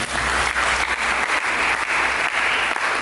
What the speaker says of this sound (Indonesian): Berikan tepuk tangan begitu